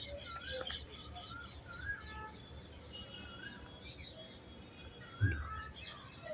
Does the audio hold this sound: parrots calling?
yes